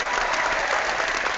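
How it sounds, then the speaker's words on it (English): A canned applause sound effect plays on a hockey podcast: a steady, even wash of crowd clapping and cheering, moderately loud, with no talk over it. "Applause."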